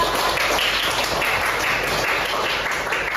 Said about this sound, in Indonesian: beri tepuk tangan untuk kita